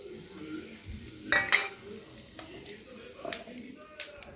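Whole garam masala, bay leaf and cumin go into hot oil for a vegetarian biryani tempering, giving a couple of sharp crackling bursts followed by a soft, steady sizzle with faint clinks.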